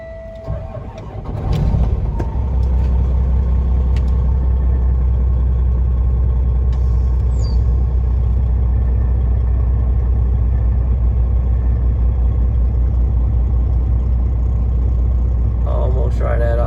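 A warmed-up 2016 Peterbilt 386 flattop glider truck's diesel engine idles close by, a steady deep rumble that starts after a brief moment and holds loud and even throughout, with faint chirps of birds in the background.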